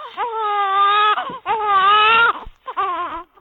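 A baby cries in loud, drawn-out wails, three sustained bursts separated by short gasping breaks, close and with no talking over it.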